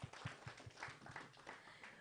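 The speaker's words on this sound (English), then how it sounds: "A big round of applause for the Sharon Ply." An awards ceremony audience claps in a faint, thin burst of applause, with individual hand claps audible in an uneven patter.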